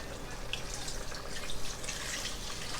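Water is poured into a pot of already fried oxtail to bring it just above the meat before pressure cooking; a steady, close splashing pour runs the whole time with no talk.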